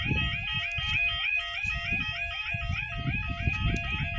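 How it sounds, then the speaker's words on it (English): A railway level crossing alarm at Star Level Crossing gives a continuous, cycling two-tone electronic warble, moderately loud and steady, over rumbling low background noise. "Oh, it sounds a bit like Warehorne's alarm."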